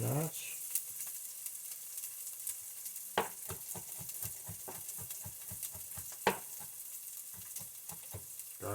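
Red bell peppers sizzling in a pan as they cook for a kale dish, a faint steady frying hiss with soft clicks and pops of stirring scattered throughout.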